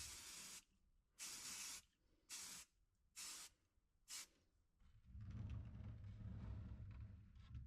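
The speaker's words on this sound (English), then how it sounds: "applying a coat of etch primer on the cylinder cover" Acid etch primer sprayed from a can onto the cylinder cover of a Stuart S50 engine being refurbished: five short, sharp hissing bursts with gaps between them, then one longer continuous spray, close and clear.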